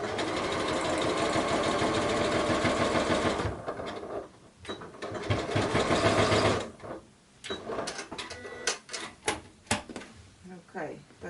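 A sewing machine stitches wide zigzags across a quilted long coat, a steady fast whirring run for about three and a half seconds, then short bursts and stops, with a voice talking over the later part.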